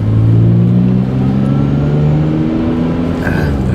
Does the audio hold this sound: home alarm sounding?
no